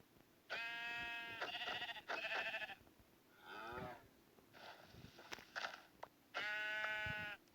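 Blocky sandbox-game sheep bleating in several short separate bleats, fairly loud and close, with brief pauses between them and a rougher bleat in the middle.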